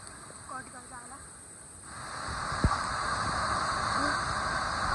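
Steady broadband rush of water along a hiking trail near Dhap Dam, loudening after the first couple of seconds, with brief voices and a sharp knock partway through.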